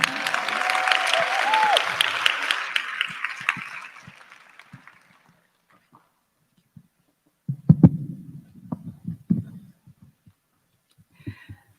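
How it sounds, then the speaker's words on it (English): Conference audience claps for a group on stage, a sustained wash of applause that fades out after about four seconds, followed by quiet stage shuffles and muffled thumps. "Everybody, please give a round of applause for the first lightning round group."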